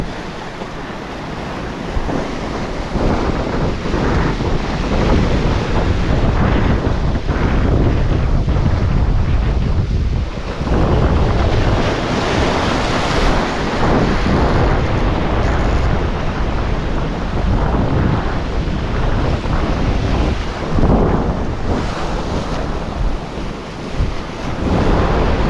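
Loud ocean waves crash and surge continuously, mixed with strong wind rumbling against the microphone.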